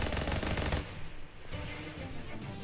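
Rapid gunfire in the video game Shadows Over Loathing, a dense burst of automatic shots followed by a few separate loud cracks, close and without talk.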